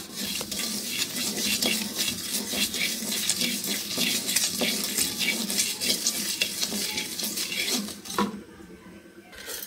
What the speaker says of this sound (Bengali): এলাচ, লং আর হচ্ছে দারচিনি মানে গরম মশলা। এখন এটাকে ভাজবো